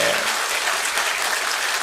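A church congregation at an evening revival service claps in unison, a dense steady burst of applause filling the hall, loud and close, without speech over it.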